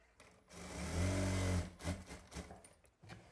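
A sewing machine hems a lungi in one brief, steady whirring run near the start, followed by intermittent handling rustles and knocks.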